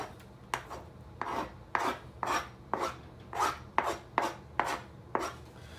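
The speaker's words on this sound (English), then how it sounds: "Now I'll give that a mix all in the sauce." Shredded beef barbacoa being mixed through its sauce, a regular series of about ten wet rasping scrapes, each a strong stroke at steady rhythm, close and loud with no talking.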